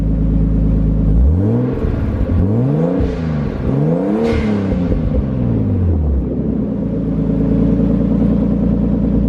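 A Nissan Skyline with a Jasma exhaust revs several times in quick succession, each rise and fall of deep engine pitch sounding close and loud, then settles back into a steady rumbling idle.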